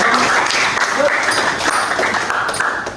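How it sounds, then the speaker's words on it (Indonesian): Audience applause during a teacher training and supervision session: a steady, dense wash of clapping that fills the whole stretch and eases off slightly at the end, with faint voices mixed underneath. "Tepuk tangan untuk sama-sama yang lain."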